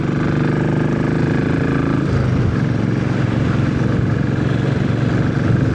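A Royal Enfield Classic 500 single-cylinder engine thumps steadily while riding, a loud continuous mid-low drone with a shift in pitch partway through as speed changes.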